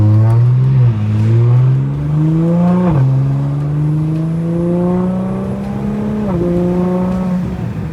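A B9 Audi S5 running an E85 Stage 2 tune pulls hard through several gears, loud and close, its engine note climbing steadily before dropping at each shift, with no talking.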